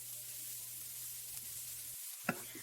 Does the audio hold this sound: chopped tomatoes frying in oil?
yes